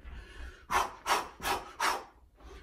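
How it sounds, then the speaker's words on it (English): Heavy rhythmic breathing during an at-home boxing workout: four loud, close exhalations in a steady rhythm, each a broad rushing burst, with a softer breath trailing at the end. "Notice my breathing."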